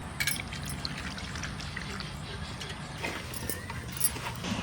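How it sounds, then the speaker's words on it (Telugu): A litre of peanut oil poured for a village-style mango pickle, giving a steady, continuous liquid pour with a few louder splashes, close to the listener. "1 లీటర్ పల్లి నూనె పోతున్నా."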